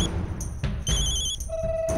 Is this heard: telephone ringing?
yes